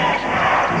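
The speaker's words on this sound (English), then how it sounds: "the crowd calls for the Brisbane Bullets to put on the defense" Crowd at a 1986 NBL basketball game between the Brisbane Bullets and Sydney Westars roars loudly and continuously, calling for defense in one dense wall of voices.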